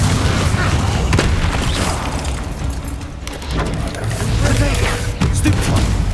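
Expelliarmus spell effect in the Hogwarts Legacy video game, dense booming magical bursts and thuds layered over continuous game ambience with no speech.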